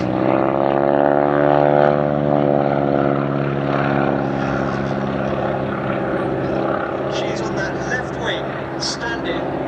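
Propeller aircraft flying low and slow past the crowd during a wing-walking display at Sywell Airshow, a loud sustained engine drone with a sweeping pitch shift as it passes, under an announcer's commentary.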